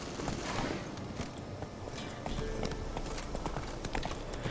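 Horse hooves clip-clop steadily at a walking pace in The Witcher 3 video game, over a noisy, busy background, close by and continuous.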